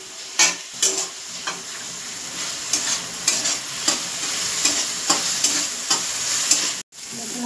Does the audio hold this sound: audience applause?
no